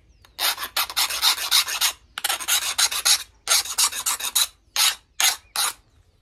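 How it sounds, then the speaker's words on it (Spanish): Hand file rasped across a hardened Damascus ladder-pattern knife blade in a file test, a series of bright scraping strokes, long at first then shorter and quicker, close and fairly loud with brief pauses between. "vamos a utilizar la lima para hacer la prueba de lima"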